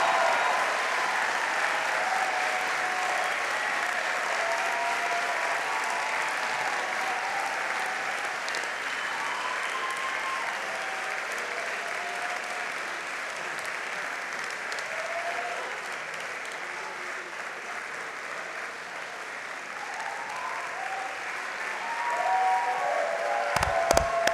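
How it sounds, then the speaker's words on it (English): Graduates at a Georgetown commencement ceremony applaud their family and friends, a broad, steady wash of clapping from a large crowd that carries on evenly throughout and swells a little toward the end. "stand up, turn around, and applaud the family and friends who brought you here today."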